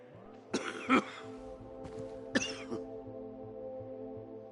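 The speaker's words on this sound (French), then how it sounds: "Ta toux a l'air vraiment sérieuse." A video game character in Dying Light: The Beast has two rough coughing fits over a quiet, steady musical background, each a short cluster of harsh coughs.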